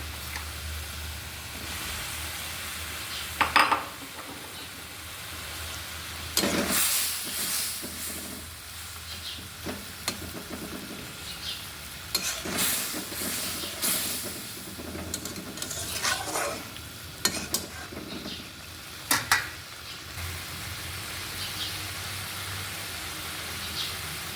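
Eggplant frying in a pan with Bengali fish curry gives a steady hiss and sizzle, with stirring scrapes and a few louder clatters rising above it at close range.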